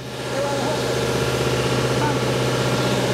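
Lycoming 5.2 litre engine on a tractor idling close by, a steady loud mechanical hum with an even low vibration running throughout.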